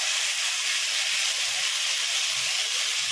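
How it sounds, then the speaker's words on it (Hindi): Eggplant fries uncovered in a kadhai with salt, giving a steady, even hiss that stays close and constant without pause. "2 से 3 मिनट तक बैगन को भूनेंगे इसमें।"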